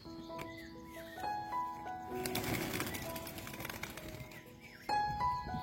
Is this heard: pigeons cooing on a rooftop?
yes